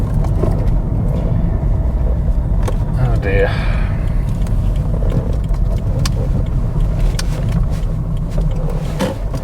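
A cheap Lexus IS in limp mode, its engine droning low and strained beneath steady road rumble, with a brief rising whine partway through as someone talks over it close by.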